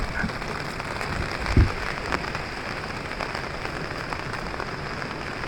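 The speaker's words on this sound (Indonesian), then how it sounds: "Hujannya syahdu banget" Steady rain falls outdoors near a waterfall hiking spot, a continuous, even patter over the whole stretch with one brief louder knock partway through and no talk.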